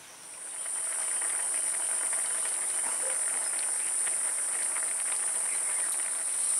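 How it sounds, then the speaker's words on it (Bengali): Uncovered curry of a Bengali shukto, made without oil, bubbling on a high gas flame, a steady broadband hiss of boiling and burner roar that holds loud and constant from start to finish with no voices. "এইবার আমি গ্যাসের ফ্লেমটা হাই করে দিয়ে নাড়াচাড়া করব। ঢাকা না দিয়েই আমি তরকারিটা আরেকটু ফুটিয়ে নেব।"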